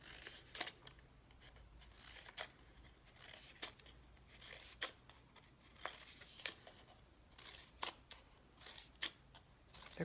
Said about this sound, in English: And you cut the fringe.